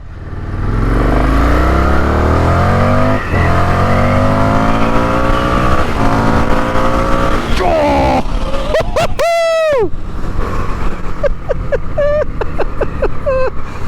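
An Indian FTR1200 motorcycle accelerates loudly through a tunnel, its engine climbing through the gears with rising revs and booming echo, then dropping into sharp throttle blips and pops near the end.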